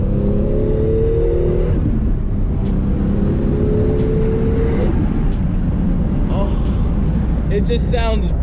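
A loud Toyota Supra engine, a 2JZ-GTE, revs up and down repeatedly, rising pitch sweeps over a rumbling idle, close by and continuous.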